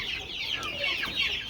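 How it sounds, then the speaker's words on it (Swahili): Two-month-old chicks on a commercial poultry farm chirp continuously in a busy, overlapping chorus of thin, high peeps heard close up. "hivi ni vifaranga sasa vina miezi 2"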